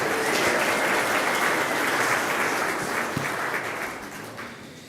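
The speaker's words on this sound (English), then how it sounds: "That, I think, deserves applause." A synagogue congregation applauds a birthday at a Kabbalat Shabbat service, dense and steady clapping from the room that fades slightly toward the end.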